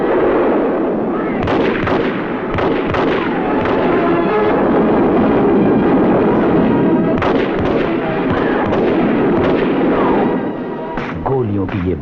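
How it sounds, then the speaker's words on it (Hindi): Dense, continuous gunfire as soldiers shoot indiscriminately into a crowd, a relentless barrage of cracks and bangs with louder bursts scattered through, under someone narrating in Hindi. "सैनिकों ने अंधाधुंध गोलियां बरसानी शुरू कर दी।"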